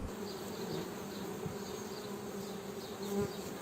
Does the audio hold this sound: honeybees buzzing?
yes